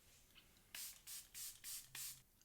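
Charlotte Tilbury Airbrush Flawless Setting Spray misted onto a face in five short, evenly spaced hissing bursts, close and fairly soft, with no talking.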